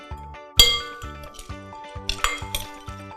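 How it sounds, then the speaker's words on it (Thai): Thai spicy salad with dried shrimp, peanuts and cut Chinese celery is tossed together in a bowl, giving a steady rhythm of close clinks and scrapes, about seven even strokes with a couple of sharper clatters. "คลุกเคล้าให้เข้ากันเลย"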